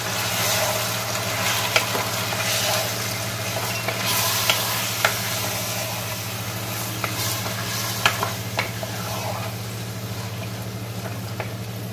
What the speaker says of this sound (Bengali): আর এখন আমি মাটনটাকে ভালো করে মশলার সাথে মিক্স করে